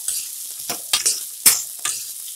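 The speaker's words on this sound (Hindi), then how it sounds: "इसे हम अच्छे से इस तरह से सौते कर लेंगे" Boiled chickpeas sizzle in hot oil as they are stirred and sautéed in a pan, bright frying hiss broken by several sharp scraping strokes of the spoon, close and alone.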